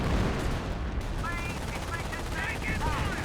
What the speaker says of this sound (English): Firing barrage there.